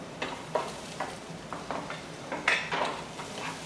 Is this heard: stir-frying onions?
yes